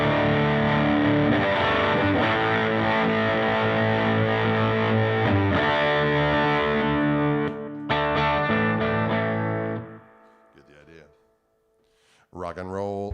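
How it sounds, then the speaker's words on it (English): An electric guitar played live through a heat distortion pedal gives a thick, gritty, sustained crunch with ringing chords. It keeps going for about ten seconds, then cuts out, and a voice comes in near the end. "sometimes for a little less gain, I'll hit my little heat pedal."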